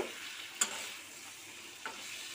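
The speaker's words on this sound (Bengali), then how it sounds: "সেই পর্যায় পর্যন্ত আমি উলট পালট করে কষিয়ে নেব" Onions and potatoes are turned in a pan with a soft, steady frying hiss and two brief utensil clicks, close but quiet.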